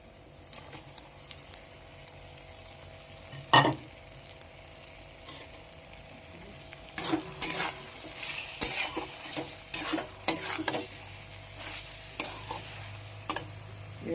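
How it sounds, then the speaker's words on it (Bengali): Shredded chicken hitting a hot kadai with spiced oil for chicken bharta, a quiet steady sizzle broken by a sharp early clatter, then repeated scraping stirs and utensil knocks growing louder in the second half. "এবারে চিকেনটা কড়াইতে তুলে দেবো।"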